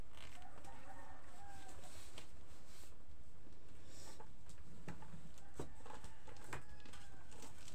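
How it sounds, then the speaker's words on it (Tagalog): Pet chickens cluck faintly in a backyard, scattered clucks and short calls coming from a little distance over a low, steady outdoor background, with no talking. "Marami na akong mga alagang manok"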